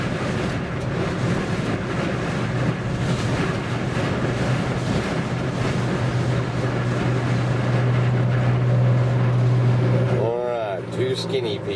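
Strong wind buffets outdoors on an open windy day at Cadillac Ranch, a steady roaring rush with gusty swells throughout, a low steady hum running beneath and a voice near the end.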